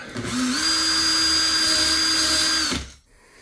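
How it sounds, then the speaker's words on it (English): A small power tool spins up to chamfer and debur fired 6.5 Creedmoor brass cases, giving a close, steady motor whine for about two and a half seconds before it quickly winds down to silence. "I'm only going to chamfer and debur the ones I need to do"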